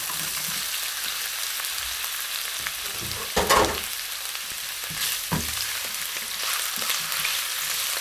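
Ginger fries in olive oil in a wok, giving a steady soft sizzle, with a couple of louder bursts of spatula stirring around the middle.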